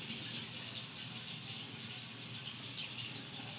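Tap water runs steadily into a sink while hands are wetted for a natural-hair wash-and-go refresh, a continuous broadband hiss at close range with no talking.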